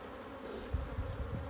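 Agitated honeybees buzzing at a beehive, a steady, fairly quiet drone of many wings with a few louder passes near the mic.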